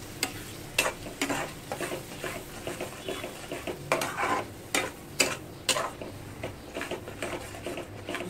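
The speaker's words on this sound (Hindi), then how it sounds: "इसको हम अच्छे से फ्राई करेंगे।" Masala for matar paneer sizzling in a pan over high flame, stirred nonstop with a spoon scraping and tapping in an irregular rhythm, close and fairly quiet.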